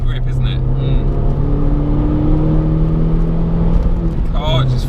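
A rare Mini John Cooper Works pulls hard on fresh tyres, its engine note droning loud and steady with rising tones as it accelerates, a brief chirp of wheelspin near the end.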